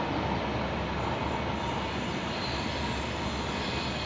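The MGR Chennai Central Duronto Express rushes past at close range, a loud, unbroken roar of wheels and wind that holds steady throughout with no voices on top.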